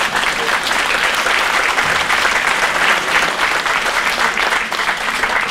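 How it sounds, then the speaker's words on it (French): Sustained audience applause at a Tréteaux Chantants singing contest in Pontanezen, steady dense clapping from a large crowd throughout, loud and close with no speech over it. "Vous pouvez l'applaudir."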